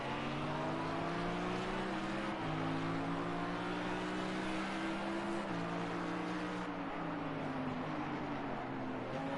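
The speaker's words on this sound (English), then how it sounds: "the two cars now rev away from the 5th position, they now blurt away" GT3 race cars on the Long Beach street circuit drone loudly and steadily, their engine notes climbing through the revs and dropping at each gearshift, a continuous close roar with no voices over it.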